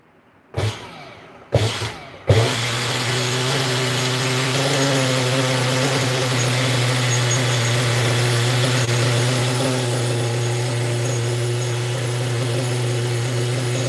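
A Kyosho GT1 nitro RC car engine is pulled over twice in short bursts, then catches and settles into a steady, buzzing high idle that runs on loudly and evenly to the end.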